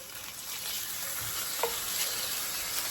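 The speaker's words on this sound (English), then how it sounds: "I am just going to cook those in a little bit of olive oil" Two large chicken breasts fry in a little olive oil, giving a steady, close, bright sizzle throughout with a few faint clicks and scrapes in the pan.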